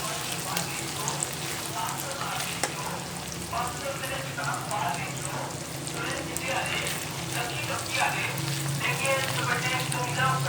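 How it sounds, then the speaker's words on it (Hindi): Ginger sautéing in a hot pan as a home curry base is cooked, a steady broadband sizzle and crackle running the whole time with faint stirring scrapes, close and moderately loud, with no talk over it. "अब शामिल करते हैं अदरक। इसको भून लेते हैं।"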